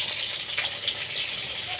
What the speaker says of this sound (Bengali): পটল আমি কড়াই তেল দিয়ে দিয়েছি, পটল দিচ্ছি। এই যে পটল ভাজা করে নিই আগে।